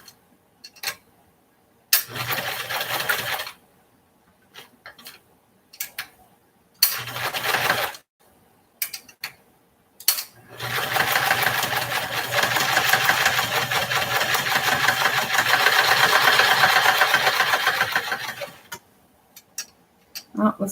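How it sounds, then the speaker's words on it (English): A sewing machine stitching fabric strips for a heart pillow pincushion, running in several short bursts early on and then one long steady whirring run of about eight seconds, near and clear with quiet pauses between. "it takes some time to sew individual strips on"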